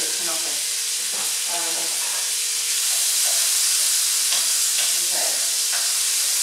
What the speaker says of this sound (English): So again, we're just browning these.